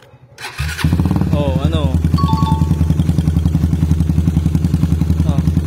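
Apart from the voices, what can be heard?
motorcycle engine starting and warming up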